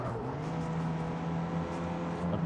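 Sports car engine accelerating in the Street Racing Syndicate video game, a steady droning engine note that holds fairly loud over the whole stretch, with no talk.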